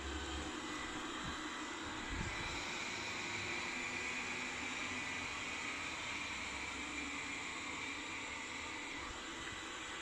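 A toy helicopter flies nearby, its small motor giving a steady, buzzing whir that stays even in loudness for the whole stretch.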